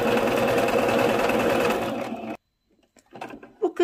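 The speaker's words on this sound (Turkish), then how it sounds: "Komple dikiyorum bunu." A sewing machine runs steadily for about two seconds while stitching an elastic-waist skirt, then stops, followed by faint clicks and handling noises nearby.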